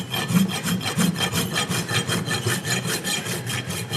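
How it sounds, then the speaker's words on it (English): Farrier's rasp filing a horse's hind hoof set on a hoof jack, a close, steady rhythmic scraping of quick back-and-forth strokes with no talking. "I try and put both feet on the hoof jack, and I choke up on the rasp"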